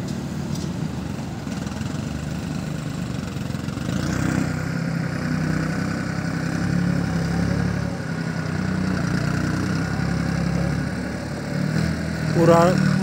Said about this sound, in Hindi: कर दिया भाई भाई ने ट्रैक्टर स्टार्ट